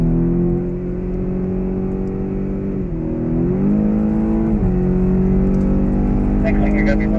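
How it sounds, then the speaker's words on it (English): A 2015 BMW X6 M accelerates down the long straightaway at the Circuit of the Americas, its engine a loud, steady droning roar that climbs in pitch, with brief dips at two gear shifts. "Alright, let's step on the gas."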